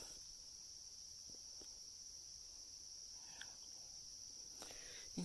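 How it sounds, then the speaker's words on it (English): Cricket chirping in a farm field in Giles County, Virginia: a faint, steady high-pitched trill running throughout, with a few soft rustles and taps nearby and no talking. "What's that, a cricket?"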